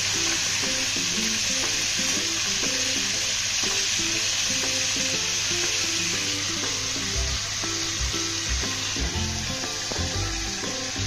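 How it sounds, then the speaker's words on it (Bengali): Crabs frying in a pan with oil, a steady loud sizzle that carries on throughout, with occasional stirring knocks and scrapes against the pan and no talking. "কতক্ষণ ভেজে নিতে হবে? 5-7 মিনিট ভাজবো।"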